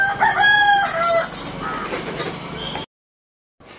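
Chickens cluck and a rooster crows in a rural village setting, loud and close for nearly three seconds, with layered calls and a rising crow before the sound cuts to silence.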